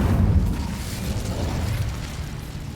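A fire spell cast in the Hogwarts Legacy video game bursts out loudly at the start, then settles into a steady low roaring rumble.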